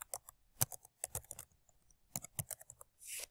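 A web address being typed on a computer keyboard, with quiet clusters of quick key clicks separated by short pauses, ending in a brief soft rustle.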